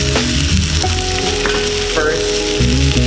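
Yellow squash and other vegetables sizzle steadily in a hot wok as they are stirred, a continuous frying hiss with tonal background music running underneath.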